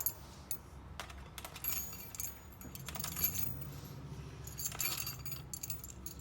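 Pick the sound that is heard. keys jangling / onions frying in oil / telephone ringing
keys jangling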